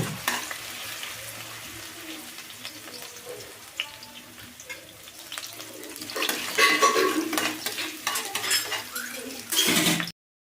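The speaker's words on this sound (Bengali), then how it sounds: "তেলে ছেড়ে দিলাম হালকা করে আমি ভেজে নেব কাঁচা লঙ্কাগুলোকে" Finely chopped green chillies fry in mustard oil in a pan for egg keema curry, a steady sizzle joined by utensil clinks and stirring that swells louder later before cutting off abruptly.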